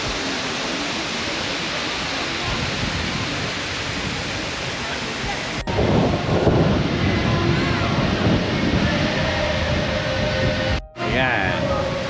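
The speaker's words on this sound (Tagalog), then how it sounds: "Malakas yung hangin dito." Strong, cold wind roars steadily into the microphone over rushing water at Eunpyeong Hanok Village, South Korea, growing louder partway through, with a brief cutout near the end.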